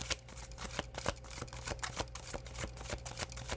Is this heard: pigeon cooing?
no